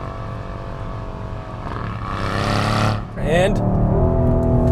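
A 2020 Mercedes-AMG GLC63 S with a twin-turbo V8 downshifts through a corner in Sport Plus with traction control on, the engine note rising and surging before it bogs down, close and loud under a speaking voice.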